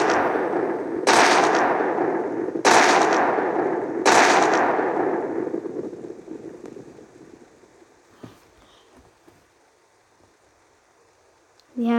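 Three heavy blasts from an airstrike in a Russian shooter video game, each followed by a long rumbling decay, then scattered faint gunfire and quiet tail before a sudden final burst.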